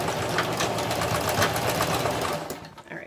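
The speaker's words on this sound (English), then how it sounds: "now I'll stitch them together" A sewing machine runs continuously, stitching together pieces of doll jeans with a fast, even mechanical whir close by that stops abruptly near the end.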